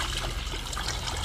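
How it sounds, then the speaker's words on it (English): Vinegar poured into a pitcher makes a steady, close trickling stream of liquid, continuous and fairly quiet with no voices over it. "Pour some vinegar into a pitcher."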